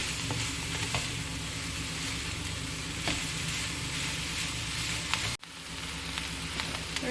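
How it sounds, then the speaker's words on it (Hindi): Chicken egg fried rice being stir-fried on a high flame, with a spatula scraping and tossing through a steady loud sizzle and one sharp knock of utensil on pan near the end. "और इसको 2 से 3 मिनट तक हम अच्छी तरह हाई फ्लेम पे ऐसे इसको हिला हिला के"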